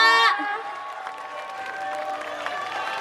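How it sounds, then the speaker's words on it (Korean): Outdoor festival audience applauding and cheering after a performance, a brief burst that quickly fades into a lighter crowd murmur and scattered clapping under a lingering musical tone. "다시 한번 큰 박수 부탁드립니다"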